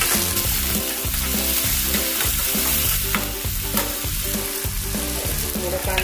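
Finely chopped green chilli goes into a frying pan and is mixed, a loud continuous sizzle with rhythmic stirring scrapes repeating throughout, close up and without talk.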